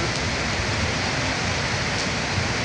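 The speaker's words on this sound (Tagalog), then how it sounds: "Lakas ng ulan dito mga idol sa Puguso, Santa Cruz, Manila." Heavy rain pours down in Santa Cruz, Manila, a dense, loud, unbroken hiss of drops hitting surfaces, steady with no talking.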